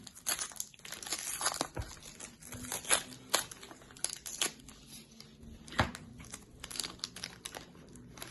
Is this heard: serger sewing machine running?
no